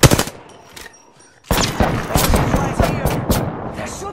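Rapid automatic gunfire rattles in Apex Legends, a dense, loud stream of shots after a brief quieter stretch with a few isolated bangs, game voice chatter mixed in.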